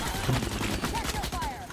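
Gunfire in Starship Troopers: Extermination, a rapid burst of close shots over about two seconds with scattered sharper cracks, dense and loud.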